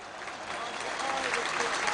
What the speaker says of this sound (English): Getting a good applause from the crowd, Micah Hyde